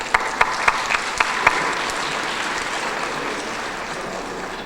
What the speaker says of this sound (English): Let's applaud their dedication.